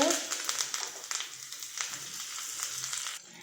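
Cumin seeds sizzle in hot oil for a tempering for a toor dal and cabbage curry. A steady, bright hiss is dotted with fine crackles, then quiets abruptly near the end.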